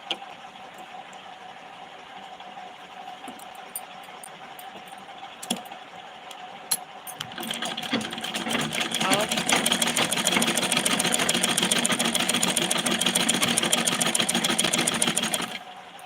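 A sewing machine stitches a blouse, starting with a quieter run and then going into fast, steady, dense whirring for most of the clip before it stops near the end. Speech is faint or absent.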